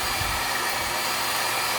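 A hair dryer set to medium blows continuously, giving a steady, close, even rushing hiss with no pauses or talk.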